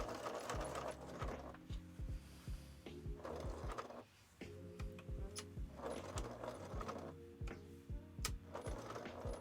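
A domestic sewing machine stitches a curve while quilting, running in short repeated bursts of fast mechanical whirring and rhythmic needle clatter, with brief pauses between runs.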